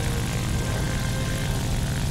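Steady, loud drone of a propeller plane engine in the War Thunder video game, a continuous low rumble that holds level throughout with no voices over it.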